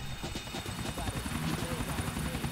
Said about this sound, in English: let's get the chopper